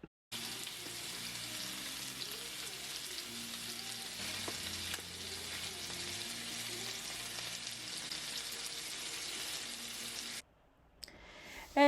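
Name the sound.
chuck roast searing in a hot pan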